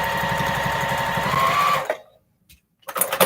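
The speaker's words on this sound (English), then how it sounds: "Line my needle up with the seam and continue my binding." A sewing machine runs steadily, stitching binding onto a repurposed plate mat, a fast even mechanical whir close up for about two seconds, then stops, followed by silence and a few brief handling sounds.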